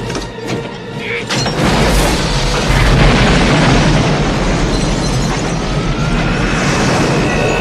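A heavy grenade explosion in a film booms after a few sharp bangs, then a loud, sustained roaring rumble of blast and debris fills the rest.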